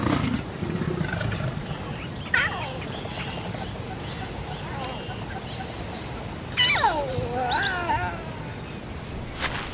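A lioness gives several throaty growls and snarling roars, one near 2.5 seconds and a stronger run around 6.5 to 8 seconds, close and fairly loud, heard over a steady wild outdoor background.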